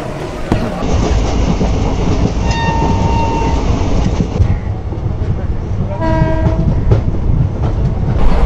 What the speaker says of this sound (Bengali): এখানে ট্রেন মাত্র 2 মিনিট থেমেছে, আমি এখন উঠে যাচ্ছি।